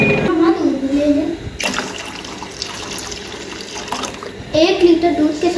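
Milk and water poured into a pot for homemade falooda, a continuous liquid splash beneath voices that talk at the start and end.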